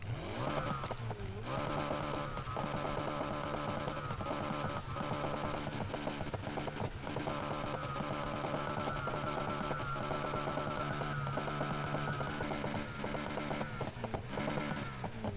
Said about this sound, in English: Wow, that sounds really aggressive.